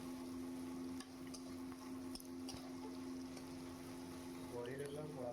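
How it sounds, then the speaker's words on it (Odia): Onions sautéing in hot oil with cumin in a mess kitchen, a steady low sizzle with occasional stirring scrapes and splashes throughout. "ପିଆଜକୁ ଯେମିତି ଭଲ ଭାବରେ ଲାଲ ହେଇନେଇଛି ସେତେବେଳେ ପିଆଜକୁ ଆମେ କ'ଣ କରିବା ନା ତେଲରେ ଟିକେ କଷିବା"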